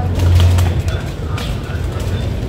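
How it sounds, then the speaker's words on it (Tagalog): Pigeons cooing nearby, a low soft coo in the first half-second over steady outdoor background noise, with faint talk. "Ah, dahil kalapati, oh."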